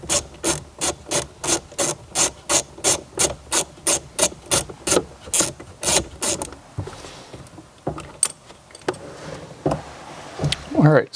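A ratchet backs metric screws and bolts out of a Chevrolet car, giving a long run of quick, evenly spaced clicking strokes up close, then slower, scattered clicks and knocks.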